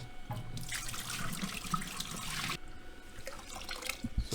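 Film-developing chemical pours steadily into a slide film developing tank in a close, splashing rush for a couple of seconds, then carries on as a lighter trickle.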